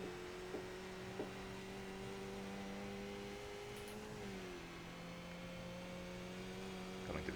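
A Skip Barber race car engine in iRacing drones steadily at Zolder, its pitch dipping briefly partway through and then climbing as the car accelerates under full throttle.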